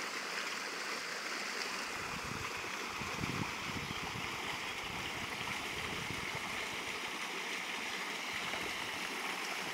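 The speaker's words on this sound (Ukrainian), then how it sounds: "Течія це дамба і це сила течії цієї річки." Steady broadband rush of the Darnychanka river's current pouring over a dam in a forest, a continuous loud churning roar that holds constant throughout with no voices.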